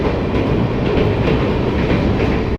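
A train rumbles past at close range at Kulem railway station in Goa, a loud, steady roar of wheels and cars filling the whole stretch without a break.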